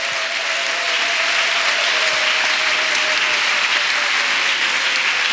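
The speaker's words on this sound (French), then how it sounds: "Clap offering to Jesus." Congregation at a French-language church service clapping as an offering to Jesus, a loud, sustained, even wash of many hands with a faint tone underneath.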